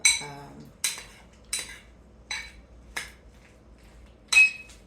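A utensil scraping and clinking against a bowl while imitation crab salad with mayo, salt and pepper is mixed, six sharp strokes spaced about half a second to a second apart, close and clear.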